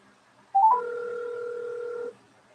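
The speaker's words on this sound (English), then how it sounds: "I'm calling you now." A phone places a call on speakerphone: a few quick dialing beeps, then a steady two-tone dial signal held for about a second and a half before cutting off, clear and alone with no talk.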